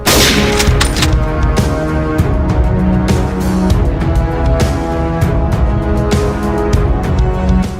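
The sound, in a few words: sniper rifle gunshot sound effect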